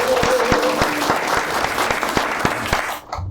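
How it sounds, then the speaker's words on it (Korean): An audience at the launch ceremony of a basic income movement's Gimpo chapter bursts into loud, close applause that carries steadily for about three seconds, then cuts off abruptly. "박수 한번 크게 보내주시기 바랍니다"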